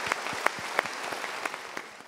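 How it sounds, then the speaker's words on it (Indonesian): An audience bursts into applause at a motivational talk, a steady dense patter of many hands clapping close by with a few sharper individual claps standing out, no voices over it. "Kita berikan tepuk tangan dulu."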